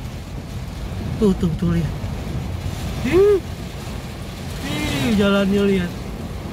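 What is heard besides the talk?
strong swirling wind and rain storm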